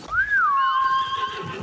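A horse in Ghost of Tsushima gives one clear, close whinny that rises, wavers and trails off, with faint hoof-like knocks underneath and no talk.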